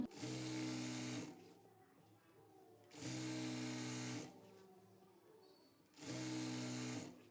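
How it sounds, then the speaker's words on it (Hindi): Sewing machine stitching elastic onto a kalidar palazzo, three steady bursts of rapid mechanical whirring, each about a second long, with quiet pauses between them. "इलास्टिक पे हमने सिलाई लगा दी है"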